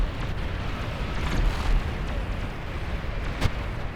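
Artillery fire rumbles through a battle in the strategy game Beyond All Reason, a low, continuous barrage of booms and explosions, with a sharper blast standing out near the end.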